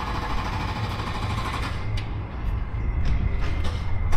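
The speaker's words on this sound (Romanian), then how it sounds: "Vorba lui Cristi, trebuie să se audă un picamăr, un flex, ceva trebuie să fie" A jackhammer or angle grinder works nearby in Alicante, Spain, producing a steady mechanical buzz and rumble that runs without pause, with sharper bursts toward the end.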